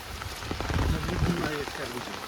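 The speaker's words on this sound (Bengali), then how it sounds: "কালকে রাত থেকে বৃষ্টি হয়ে যাচ্ছে না" Steady rain falls outdoors near village ponds during heavy rainfall, a constant hiss with scattered drops hitting surfaces, while people talk over it.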